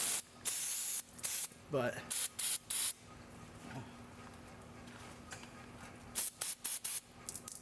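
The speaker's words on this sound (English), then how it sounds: "It's brake cleaner I can get on the brakes." Brake cleaner sprays from an aerosol can onto the brakes of a 1999 Subaru Legacy Outback, several short, loud hissing bursts in quick succession with pauses between them. Someone speaks briefly between the sprays.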